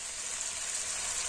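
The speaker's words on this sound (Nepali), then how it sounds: "मैले चाहिँ तातो पानी लगाउँदैछु।" Hot water pours into a pan of jackfruit curry with tomatoes, giving a brief, steady rushing hiss that stays close and even throughout, with no voices.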